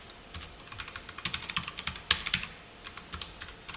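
Someone types code on a computer keyboard, a quick, close run of soft key clicks with a few louder taps, no voices.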